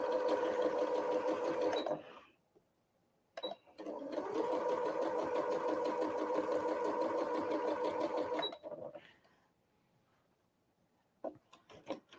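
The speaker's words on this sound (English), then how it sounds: "If you have a machine with a knee lifter, this is the time to use it when you're chain piecing." Sewing machine chain piecing quilt blocks, heard as close, steady whirring runs of stitching, one short and one long, broken by brief pauses and small clicks.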